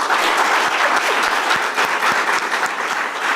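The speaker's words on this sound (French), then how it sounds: "Applaudissez pour vous-même." A hall audience bursts into loud, sustained applause, a thick continuous roar of many hands clapping with a few distinct close claps cutting through.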